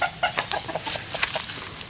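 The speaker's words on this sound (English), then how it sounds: "He's turned into a pretty good looking rooster." A rooster clucks in a quick series of close, bright calls, a few short bursts over under two seconds, with a little background noise.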